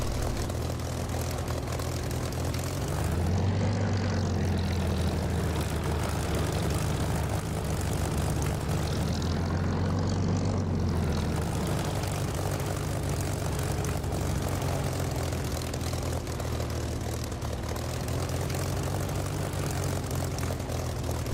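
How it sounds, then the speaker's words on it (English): Fixed-wing propeller aircraft taxiing along a taxiway toward the runway in the DCS flight simulator, a steady engine drone with a slight rise in power twice, continuous and close with no talk. "He's going to be taxiing up to the end of this taxiway and then turning right to go up to the runway."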